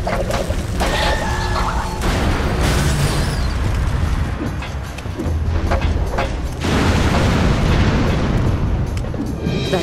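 In a video game, a lit firecracker goes off amid a chaotic stretch of booms, crashes and thuds, loud and dense for the full ten seconds with bursts of impact noise and no clear speech.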